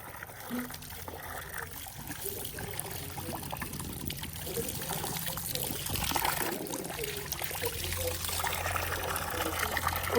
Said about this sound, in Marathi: थांब गरम पाणी आलंय